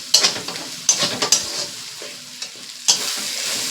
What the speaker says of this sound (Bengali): সবগুলোকে একসঙ্গে মিনিট 10-এর মতন ভালো করে কষিয়ে নেব